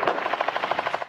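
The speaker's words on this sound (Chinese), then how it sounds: "身边时不时传来爆炸声" Rapid bursts of automatic gunfire crack in a quick, even rhythm, about a dozen shots in just over a second, during an Israeli military advance toward southern Lebanon.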